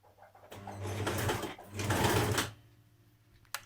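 A sewing machine stitches a dress vent for a New Look 6679 dress in two short bursts of running, near and moderately loud, with a brief click at the end and no talking.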